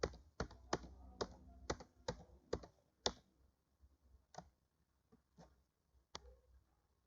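Typing on a computer keyboard while entering code in MATLAB: a series of crisp, close key clicks in irregular bursts, with quieter taps between them and no voice.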